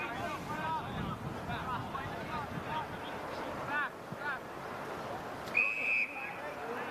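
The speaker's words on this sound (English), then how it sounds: "Pause whistle goes." A referee's pause whistle cuts through at an Australian rules football match in the Tasmanian State League, Lauderdale v North Hobart: one short, sharp blast late on, over wind, distant crowd noise and commentary.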